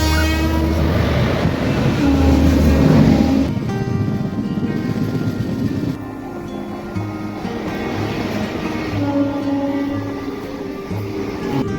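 Mandovi Express train running along the Konkan Railway in monsoon, a loud steady rumble of wheels on rails with sustained horn-like tones sounding over the clatter throughout, no voices.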